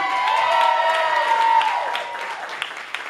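Audience applause rises as a dense wash of clapping and cheering, loud at first and then thinning out over a few seconds.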